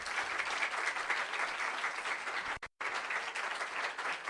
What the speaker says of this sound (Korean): 명예교장님께서 나오실 때 사랑을 담아 큰 박수를 부탁드리겠습니다.